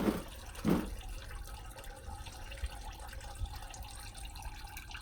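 CVT fluid draining from under a 2013 Honda Accord transmission, a steady faint trickle and splatter into a pan with two brief louder splashes near the start, close by and with no talking.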